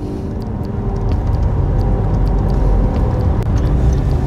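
Night traffic jam on the road from Juru toward Seberang Perai, a steady low rumble of idling and creeping vehicles with a faint whir and occasional small knocks, continuous and moderately close.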